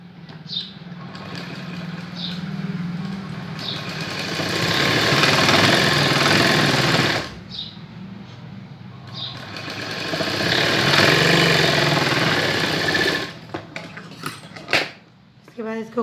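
A sewing machine runs in two long, loud, steady stitching bursts along the hem of a baby pant, with a brief pause between runs and light clicks of handling as the stitching stops.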